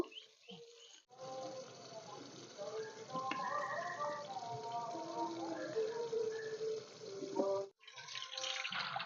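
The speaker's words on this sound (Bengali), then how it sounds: "এবার কিন্তু জলটা ঢেলে নেব" Water poured out of a freshly cut tender coconut makes a steady, gurgling trickle that runs for about six seconds, quiet and close, with a faint bird call in the background.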